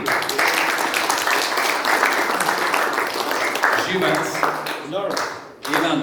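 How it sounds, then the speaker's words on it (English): A crowd at a ham radio contest meeting applauds loudly and steadily, the clapping thinning out near the end as it fades. "Let's have a round of applause"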